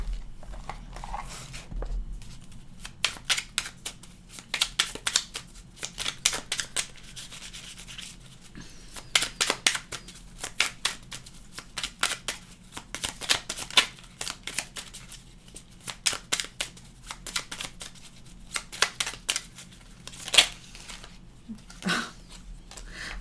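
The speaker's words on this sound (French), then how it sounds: "Je vais vous tirer une petite carte de l'oracle" Oracle cards are shuffled by hand in a long run of crisp, rapid riffling and rubbing bursts, close and moderately loud, with short pauses between handfuls and no talk.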